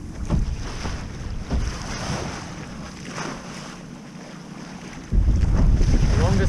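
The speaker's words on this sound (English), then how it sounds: "We have another beautiful day of sailing." Wind rushes over the microphone aboard a sailboat on Barnegat Bay, with water sloshing against the hull in uneven surges and a louder burst of wind noise near the end, no voices heard.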